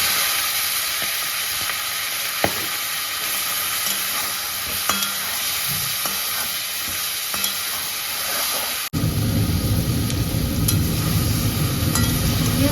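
Prawns frying in a pan give a continuous close sizzle with occasional soft clicks of stirring, and the sizzle grows denser and louder toward the end.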